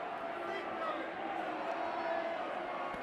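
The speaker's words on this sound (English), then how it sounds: "The crowd getting right behind the home side." Rugby crowd at a Bristol home match cheering and roaring steadily behind the home side as they drive forward, a dense continuous wash of many voices at moderate distance.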